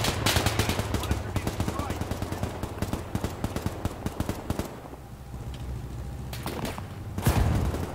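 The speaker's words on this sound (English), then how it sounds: "Me and my Tommy gun." Fast automatic bursts from a Tommy gun in the military shooter Arma 3, loud and close, rattling repeatedly for several seconds, then pausing before a final heavy shot.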